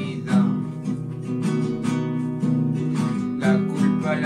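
Acoustic guitar strummed in a steady rhythm with a voice singing over it, the harmonic chords and vocal line continuous and close throughout.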